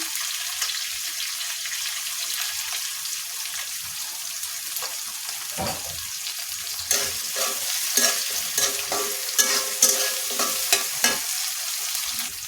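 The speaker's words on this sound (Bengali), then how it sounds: "একদম এটা লাল লাল করে ভেজে নেব।" Beef frying in mustard oil in a pan sizzles steadily, with the crackle growing busier and louder in the second half and scattered stirring clatters on top.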